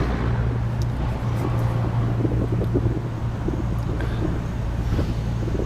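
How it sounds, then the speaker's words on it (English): Wind blows hard outdoors and buffets the microphone with a steady low rumble and rushing noise, loud and continuous, with no voices. "And it's getting really windy out here."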